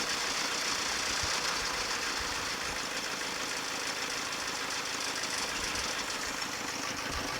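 A Ford tractor engine idles steadily with a rough, knocking mechanical rhythm, loud and close throughout with no talk.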